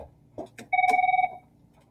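Telephone ringing in a classroom, one short electronic ring burst that trills rapidly for about half a second, close and clear, with brief bits of talk just before it.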